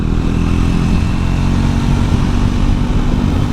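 A Triumph Scrambler 400X motorcycle on the move gives a loud, continuous engine drone with steady rumble and wind noise, close up with no pauses.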